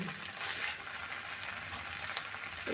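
Wide rice noodles being stir-fried with soy sauce for pad see ew give off a steady, close sizzling hiss and faint scraping throughout, with no talking.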